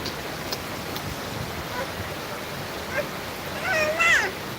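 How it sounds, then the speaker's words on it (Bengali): Steady rain falls outside a home with a mother and daughter sitting and watching it, forming an even wash of noise throughout, with a brief high-pitched cat-like cry near the end. "আমি আর আমার মেয়ে বসে বসে বৃষ্টি দেখতেছি আম্মু"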